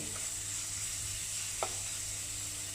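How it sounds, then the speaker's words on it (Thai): Chopped garlic stir-frying over low heat for a Korean-style kimchi pork stir-fry, a quiet even sizzle with one brief scrape of the spatula partway through. "เราผัดกระเทียมให้หอมเลย"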